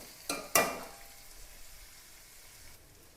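Green chillies, ginger, crushed garlic and onion sautéing in a pan for chicken curry: two short bursts of sizzling as they are stirred, then a faint hiss fading into near quiet.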